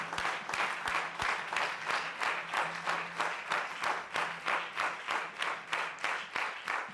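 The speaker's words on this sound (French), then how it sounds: "Est-ce que tu peux acclamer pour Yeshua Mashiach?" Church congregation applauding and acclaiming during a Sunday service, steady rhythmic clapping in unison that fills the room without pause, with no clear voices over it.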